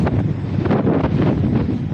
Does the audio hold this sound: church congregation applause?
no